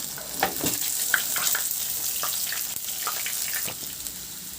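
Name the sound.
garlic sautéing in oil in a pan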